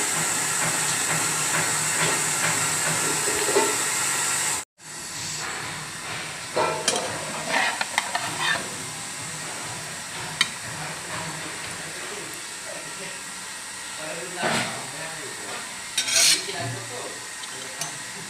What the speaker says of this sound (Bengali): পেঁয়াজ কাঁচামরিচ আর লবণ দিয়ে ডিম ভাজা